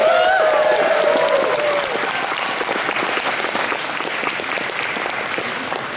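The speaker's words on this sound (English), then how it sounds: "So I think one more big round of applause for every single person who has volunteered their time over the last 30" An audience applauds volunteers at the opening of the Animethon 2023 convention, dense sustained clapping from a large crowd that slowly tapers, with a brief whistle-like tone at the start.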